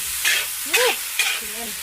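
Food sautés in a hot pan with a continuous sizzle, broken by three short bursts of stirring and scraping; faint voiced sounds can be heard in between.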